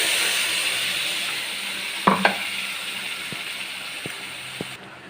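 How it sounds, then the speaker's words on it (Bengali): Ground mustard paste sizzling and bubbling in a hot pan, a steady hiss with a few sharp ticks and pops from stirring, heard close with no talk. "দেখুন সর্ষে বাটাটা কিন্তু অলরেডি ফুটতে শুরু করে দিয়েছে"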